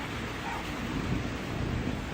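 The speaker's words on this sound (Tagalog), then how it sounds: "Wala na halos makita sa mga kalsada sa lakas ng ulan at kapal ng hamog." Heavy rain pours steadily in Baguio City during a downpour with thick fog, a dense, continuous roar of rainfall close by with no voices.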